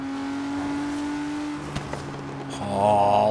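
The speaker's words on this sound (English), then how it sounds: "It's a lot more deep throaty and a lot more gurgly than the 650S." A 2017 Ford GT idles with a steady low drone, then its engine revs up into a deep, throaty, gurgling roar near the end, loud and close with no talking.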